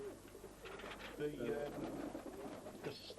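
Pigeons cooing in a loft, soft low coos that come and go at low volume beneath someone talking.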